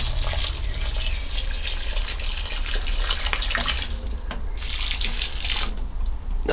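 Water from a bucket splashes steadily over potted plants on an allotment. The close, continuous pouring and gushing carries on without pause and no voices are heard.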